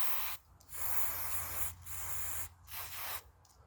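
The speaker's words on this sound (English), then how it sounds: "We'll start with the obligatory spray of lube." Lubricant sprays from a can in bursts during repair of a Waltham 8-day aircraft clock, three or four steady hissing blasts separated by short pauses, close and fairly loud.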